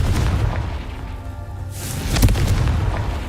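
In the video game Hogwarts Legacy, a Confringo fire spell goes off as a loud, deep booming explosion that swells midway through over a constant rumbling game background, with no voices.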